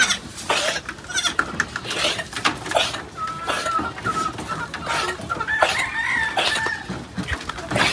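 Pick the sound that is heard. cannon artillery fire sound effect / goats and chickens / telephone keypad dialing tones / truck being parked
goats and chickens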